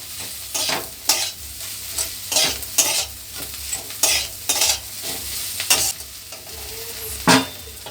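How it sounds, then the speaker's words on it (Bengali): Stuffing for Malabar spinach leaf fritters being mixed by hand in a bowl, giving repeated scraping and stirring strokes in an irregular rhythm, close and moderately loud, with no voices. "সব কিছু ভালো করে আমি এখন মিশিয়ে নিচ্ছি"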